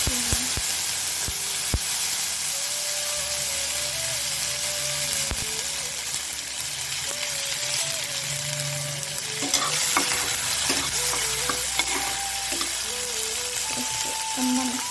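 Tomatoes are stirred into a pan where chopped garlic is frying, giving a steady sizzle under clinks and scrapes of a utensil. A few sharp knocks come through, and a tonal hum runs underneath.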